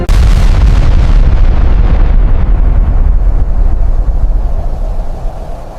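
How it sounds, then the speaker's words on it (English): Explosions at a burning cold storage warehouse with solar panels on the roof, a loud deep boom at the start followed by a long rumbling roar that slowly fades. "which led to several small explosions."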